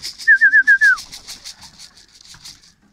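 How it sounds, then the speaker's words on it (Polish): Pigeon at the loft after landing gives a few soft, rhythmic coos close by, alongside light rustling and faint shuffling sounds that fade over the following seconds. "I mamy kolejnego gołąbka. Przyleciał."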